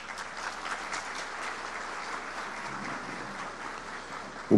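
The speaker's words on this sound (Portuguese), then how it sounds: "que recebe os nossos aplausos" An audience at a formal opening ceremony applauds in a steady, even wash of clapping, moderately distant and unbroken, with a brief bump at the very end.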